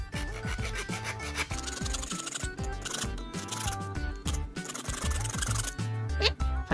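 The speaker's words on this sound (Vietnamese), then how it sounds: "cái cưa gỗ mình sẽ cưa ha" Rapid back-and-forth rasping of the small wood saw on a Leatherman Super Tool 300 multi-tool cutting wood, steady and close, with a brief pause midway before the strokes resume.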